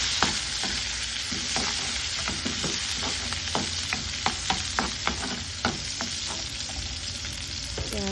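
Onions sizzle steadily in hot oil with fenugreek seeds, making a continuous bright frying hiss. Frequent sharp stirring clinks from a spoon against the pan run through it, close and fairly loud, with no voices.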